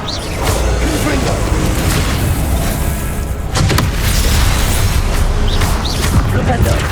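In Hogwarts Legacy, Confringo fire spells go off as booming, crackling blasts with a whooshing rush, loud and dense throughout, and a heavy impact midway.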